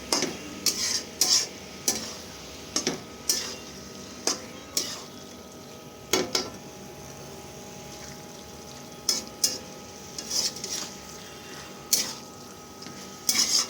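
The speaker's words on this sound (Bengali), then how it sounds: "তারপর সব কিছু একসাথে মিক্স করে নেব" Fish gill curry stirred and mixed in a pan with a metal spoon, sharp scraping clinks coming in irregular bursts over a soft, continuous sizzle, close and fairly loud.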